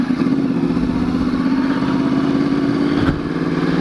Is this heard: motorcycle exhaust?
yes